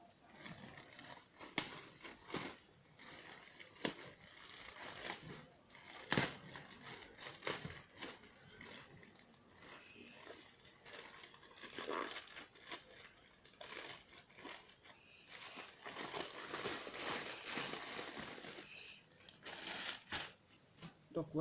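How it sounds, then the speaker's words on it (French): A parcel of Joom products holding a bag is unboxed, its plastic packaging crinkling, rustling and tearing in irregular close bursts throughout, with speech alongside. "on va déballer le produit."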